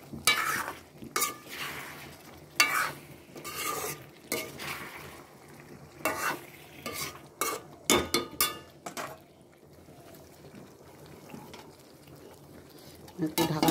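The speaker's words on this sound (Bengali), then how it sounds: "আর এই যে পনিরগুলো আমি এখন দিয়ে দেবো, দিয়ে হালকা একটু নাড়াচাড়া দিয়ে" Paneer cubes are stirred in a pan with sautéed potatoes for a curry, giving a series of soft scraping and clinking strokes of a spoon against the pan at close range, with brief pauses between them.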